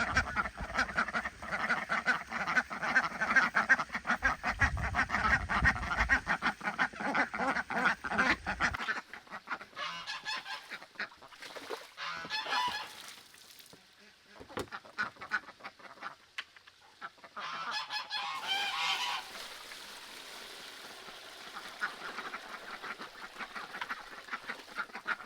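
Female geese and ducks on a farm honking and quacking in bursts, fairly close, with a steady background hum that cuts out partway through.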